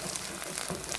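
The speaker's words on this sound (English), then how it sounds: "We're going to just saute this right now" A pan sautéing ingredients for Bajan breadfruit cou cou, giving a steady soft sizzle and crackle that runs the whole second without pause.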